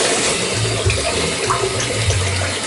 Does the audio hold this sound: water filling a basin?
yes